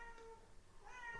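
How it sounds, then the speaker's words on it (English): A house cat meows faintly in a quiet room, two soft drawn-out calls, one near the start and another toward the end, with nothing else heard. "And I apologize for the cat."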